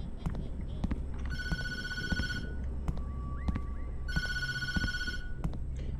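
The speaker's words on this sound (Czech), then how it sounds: "Nezvedej mobil." A mobile phone rings in the Tattletail video game, two bursts of an electronic trill repeating close and clear over low background noise and faint clicks.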